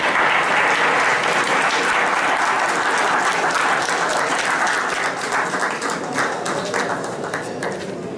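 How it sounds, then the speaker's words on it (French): Loud, sustained applause from an audience fills the hall at the opening of the Abidjan Innova international inventions fair, steady dense clapping that tapers slightly toward the end. "Merci de l'applaudir encore plus fort que ça, mesdames et messieurs."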